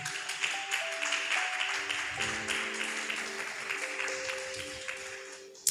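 A church congregation applauds as sustained organ or keyboard chords play, the clapping spread across the room and fairly soft, continuing steadily and tapering slightly near the end.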